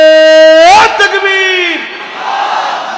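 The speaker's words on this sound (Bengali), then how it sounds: "জোরে একটু তাকবীর দেন তো" A single voice gives a drawn-out shouted call, and a large crowd answers with a loud, roaring takbir chant of Allahu Akbar that fades away.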